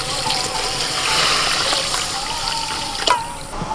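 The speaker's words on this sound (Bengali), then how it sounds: "যতটা চিনি ততটাই জল দিচ্ছি" Water poured onto sugar in a pan to make syrup for chhena jilipi, a short, close run of pouring and splashing that ends in a small clatter.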